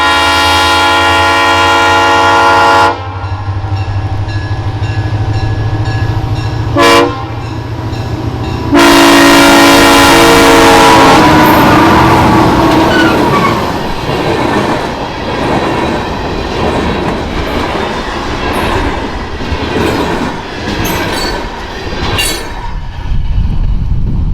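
A Great Lakes Central Railroad train sounds its horn in loud sustained blasts at a cantilever crossing over M61, then rumbles past at speed with rolling wheel and car noise that fades slowly.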